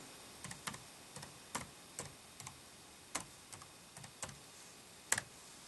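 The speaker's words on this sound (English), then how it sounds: "as you hear the clicking of the touchpad" Touchpad of an ASUS Transformer Book T100 laptop clicking in a quiet room, about a dozen sharp, close, dry clicks in an irregular rhythm, some paired, with no talking.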